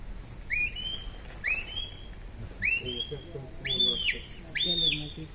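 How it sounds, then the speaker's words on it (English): A sheepdog handler blows a series of sharp, rising whistle commands, about six short blasts spaced roughly a second apart, close and fairly loud, with faint talk underneath. "we're going to start using the whistle."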